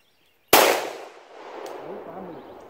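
A single sharp 9mm pistol shot, from a Glock 19 or a Smith & Wesson SD9VE, fired outdoors at a distant tank target; a loud crack rings out and then trails off into a long, lingering echo.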